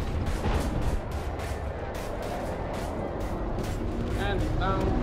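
Weapons fire in a space combat video game, heavy repeated booming blasts and rumbling under voice chat between players.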